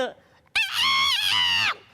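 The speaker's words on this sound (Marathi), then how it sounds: "तो कोंबडा आरवायचाच." One loud, close rooster crow, sustained and tapering at the end, following a short quiet pause.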